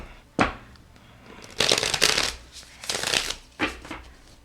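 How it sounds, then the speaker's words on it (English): Cards from an indie oracle deck being shuffled in several quick riffling bursts, close and crisp, with short pauses between each shuffle, loosening stuck cards. "I'm just going to shuffle here to help get them unstuck"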